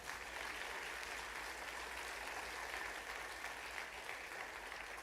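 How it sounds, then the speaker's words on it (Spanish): Church congregation applauding together in praise, a steady, dense wash of clapping that fills the space evenly from start to finish without pause. "Denle un aplauso al Señor."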